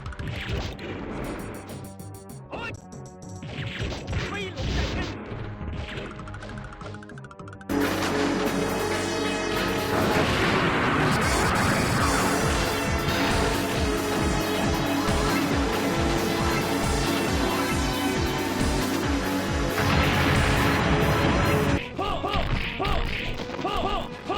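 Arcade game audio from an emulator running on a cheap Amlogic S805 TV box, a dense, loud stream of music, hits and crashes that jumps in level partway through and carries on without a break, with no talking.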